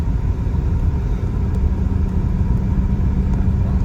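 A 33-year-old vehicle is on the move, filling the cabin with a constant low rumbling roar of tire noise and road drone, steady and close throughout with no voices.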